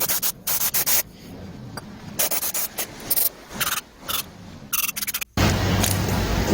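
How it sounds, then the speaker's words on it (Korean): Power steering pump parts being scrubbed clean with kerosene during a pump overhaul: close, repeated brushing and rubbing strokes in uneven bursts, with no talk. "등유를 이용해서 이렇게 깨끗하게 부품들을 세척을 해줍니다."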